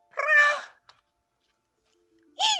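A cat meows twice, close and clear: a drawn-out plaintive cry, a pause of near silence, then a shorter rising meow.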